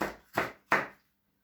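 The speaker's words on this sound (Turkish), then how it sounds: "Birer parmak genişliğinde kesiyorum." Three quick knife chops through peppers on a cutting board, cutting finger-width pieces, evenly spaced and close, then silence.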